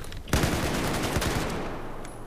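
Rapid automatic AK-12 rifle fire in the shooter game Battlefield 4 erupts suddenly and rattles on in a dense, loud burst of close shots.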